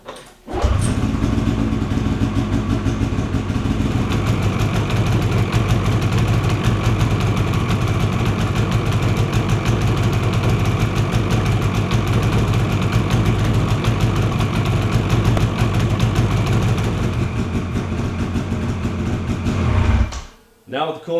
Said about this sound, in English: we're going to go ahead and start this machine and bring it up to its operating temperature of roughly 130 to 140 degrees